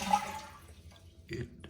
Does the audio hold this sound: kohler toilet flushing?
yes